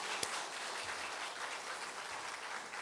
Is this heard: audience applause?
yes